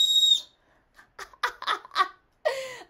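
A whistle built into a Salehe Bembury New Balance 574 sneaker gives a sharp, bright blast at the start, followed by breathy laughter and giggles and a final short whistle-like squeal.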